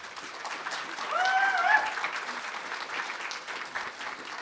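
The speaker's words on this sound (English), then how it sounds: "Let's give Barry one more round of applause." An audience gives a round of applause for a guest at a library's American Indian writers award ceremony, even steady clapping that swells briefly in the middle before settling, moderately loud and close.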